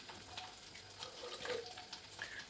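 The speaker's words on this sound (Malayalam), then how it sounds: "ഞാൻ കുറച്ച് വെള്ളം കൂടി ചേർത്തു കേട്ടോ" Water trickles into a simmering pot of curry on the stove, a faint, soft splashing pour with light bubbling underneath, heard up close.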